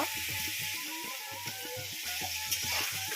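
Duck meat frying in a pan for an Assamese duck curry, a steady close sizzle with occasional stirring scrapes and bubbling, no talking.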